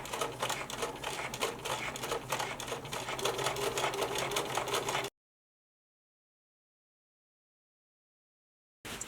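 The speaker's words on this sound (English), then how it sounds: "very slowly and carefully stitch all around each heart directly on your drawn line" A sewing machine stitches slowly around a drawn fabric heart with rapid, even, close mechanical clatter for about five seconds. It stops into silence, then the stitching briefly starts again at the very end.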